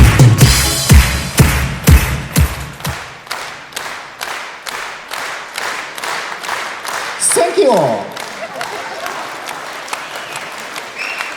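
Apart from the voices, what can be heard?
audience applause at comedy concert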